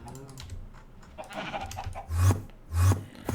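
Two short, nasal bleats from a sheep in Minecraft ring out near the end, over faint clicking and soft background noise.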